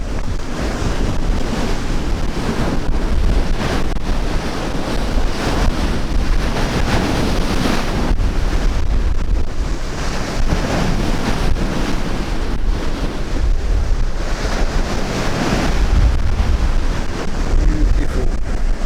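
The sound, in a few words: sea waves and wind by the shore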